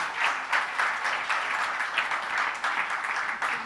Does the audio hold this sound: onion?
no